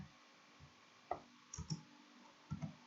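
A few soft clicks sound close by, one single and then two quick double-clicks, separated by quiet pauses.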